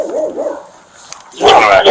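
A dog barks in a quick series of yelping, whimpering barks, then breaks into a louder, harsher burst of barking close to the microphone, with little talk.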